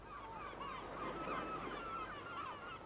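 Gulls calling at the seaside, a string of nasal, wavering cries over a low, steady rush of background noise, at moderate distance.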